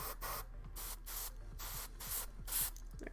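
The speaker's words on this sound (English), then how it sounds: "So we're gonna go ahead and spray this" Yellow-orange paint spraying onto a miniature for a fire effect, heard as repeated short airbrush-like bursts with steady hiss between, close and fairly quiet, with no talking.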